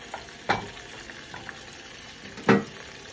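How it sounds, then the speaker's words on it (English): Habanero glaze simmering in a pan on low heat gives a soft, steady bubbling and faint sizzle, broken by two brief scraping stirs at close range, with no speech. "We have it simmering for like 10 minutes on low."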